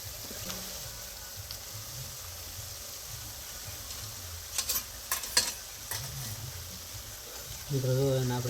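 Jalebi fry in hot oil as a steady close sizzle, broken midway by a few sharp clinks and scrapes as the pieces are turned. A voice comes in briefly near the end.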